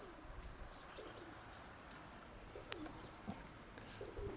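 Soft pigeon coos and a few chirps over steady outdoor ambience, fairly faint and at a distance, with no talking.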